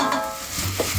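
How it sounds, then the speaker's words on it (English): Sugar snap peas and broad beans drop into hot butter in a pan, giving a loud close sizzle and brief stirring clatter with no voices. "So to the butter I'm going to add in sugar snap peas, my broad beans"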